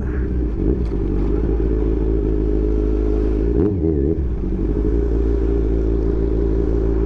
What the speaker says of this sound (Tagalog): Dumadamba yung motor ko bago ang clutch lining.